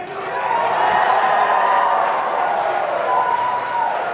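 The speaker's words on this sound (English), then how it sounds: "And you can hear some really loud cheering in the room." A crowd cheers loudly and steadily indoors as a SpaceX Crew Dragon in-flight abort test launches, a sustained roar of many voices with whoops rising through it from start to finish.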